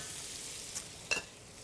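Mushrooms sauté in a hot pan with a steady, faint sizzle and a couple of brief stirring scrapes near the end.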